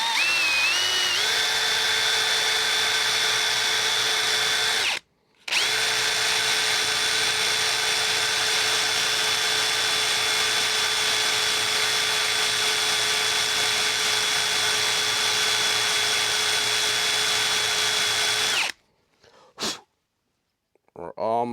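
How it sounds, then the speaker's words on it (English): A power drill bores steadily into a woodturned gnome blank, a loud, sustained high whine that runs unbroken for several seconds, pauses briefly, then resumes before cutting off with short bursts at the end. "So I'm going to start drilling"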